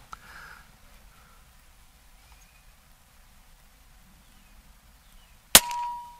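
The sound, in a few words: Air Venturi Bullpup .22 air rifle shot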